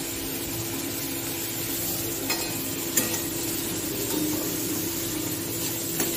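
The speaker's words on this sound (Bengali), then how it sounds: "এদিকে হচ্ছে এখন বিট ভাজা।" Continuous sizzling of beetroot frying in a pan, with occasional soft scrapes of a spoon stirring, steady and close.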